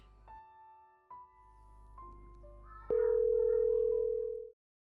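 An outgoing phone call sounds a few short electronic tones and beeps, then a steady ringback tone holds for about a second and a half before cutting off, clear and alone in a quiet room.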